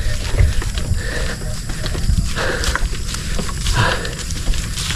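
A 25-liter backpack sprayer is pumped outdoors, making repeated creaking, ratcheting mechanical strokes with close, irregular squeaks and thumps at a moderate level.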